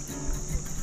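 A steady, high-pitched buzzing drone of cicadas in mangroves, continuous and even throughout the short moment.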